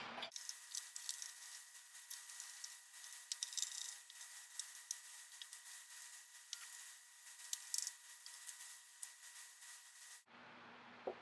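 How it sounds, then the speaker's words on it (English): Screws being driven and tightened to fix an umbrella frame's swivel base onto its X-shaped base: a steady, close scraping and grinding that runs for about ten seconds, then stops abruptly. "I'm going to go ahead and put all 4 screws in and tighten them up."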